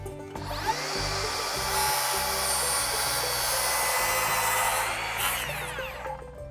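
A power saw cuts a decorative end on a wooden pergola rafter tail, with one loud, sustained cut running for several seconds before it winds down.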